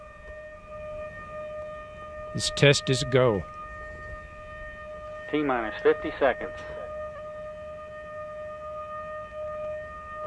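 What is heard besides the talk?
sirens blaring before NASA Ares I rocket motor test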